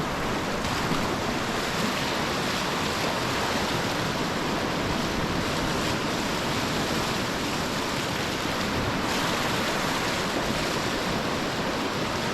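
Steady broadband rush of river water churning around a small kayak on a surfing wave, continuous and close with no breaks or talk.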